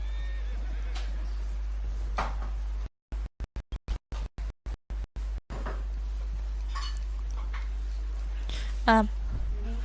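A horse in Red Dead Redemption 2 whinnies amid soft game ambience and faint hoof sounds, with a stretch of choppy dropouts midway and a louder neigh near the end.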